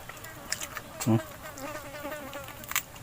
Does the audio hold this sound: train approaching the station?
no